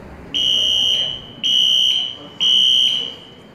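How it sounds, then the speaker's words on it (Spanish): Emergency alert notification tone from an institution's alarm system: three loud, steady high-pitched electronic beeps, each about a second long with short gaps, over a faint background hiss. "El siguiente sonido de alerta"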